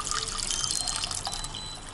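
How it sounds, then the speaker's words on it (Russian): Water poured into a kitchen pot to make a pickling brine for sauerkraut, a steady close splashing trickle with no talk over it. "В кастрюлю наливаем мы 1 литр воды."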